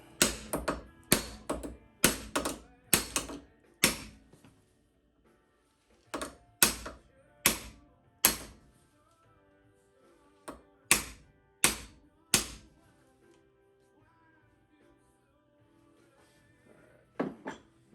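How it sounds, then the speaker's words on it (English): A knife guard is driven down onto the blade with an old pipe flattened at one end, giving sharp, close metallic taps in quick bursts of several blows separated by pauses, with no talking. "next I'm going to start trying to drive this blade down, or the guard down on the blade."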